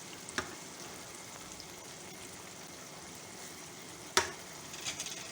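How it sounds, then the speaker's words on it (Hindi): A spicy potato sauce mixture fries in a pan with a soft, continuous sizzle and two brief sharp clinks of utensil on pan. No one speaks. "मैं इसको थोड़ा सा भूनती हूँ"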